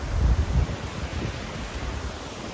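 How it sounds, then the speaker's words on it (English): A small waterfall in Almaty, Kazakhstan, makes a steady broadband rush of falling water, heavier and rumbling at first, then settling into an even hiss, with no voices. "the reward at the end was this small but charming waterfall"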